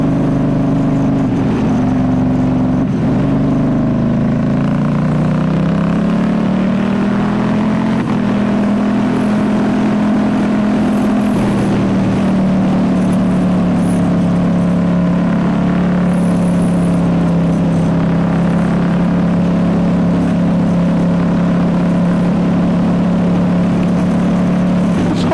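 A 2019 Ducati Diavel S fitted with a full Termignoni exhaust pulls along the road with a loud, deep, throbbing drone. The pitch rises and dips with the throttle, and wind buffeting runs underneath throughout.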